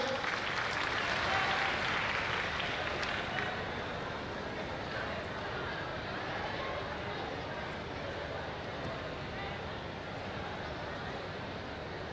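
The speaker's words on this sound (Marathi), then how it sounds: "एकदा जोरदार टाळ्या आपण त्यांचं स्वागत करूया." A crowd at a university youth festival prize ceremony applauding to welcome a guest, with dense sustained clapping that swells early, then carries on slightly softer and steady throughout.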